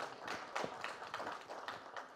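Dense, uneven clapping from an audience at an OTT streaming platform launch event, steady and fairly close, rising in short bursts for about two seconds.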